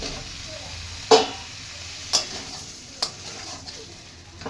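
Chopped capsicum sautéing in a spiced masala in a pan for a curd-and-pointed-gourd dish, a low steady sizzle broken by three sharp utensil knocks against the pan, close by and with no talk.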